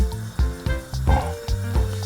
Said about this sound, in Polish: kawałek tej masy wielkości orzecha włoskiego i przekładam na rozgrzany olej